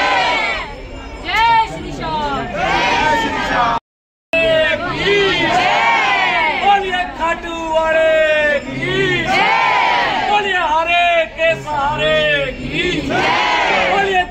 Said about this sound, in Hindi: बहुत लंबी लंबी भीड़ है पीछे तक जा रही है भीड़।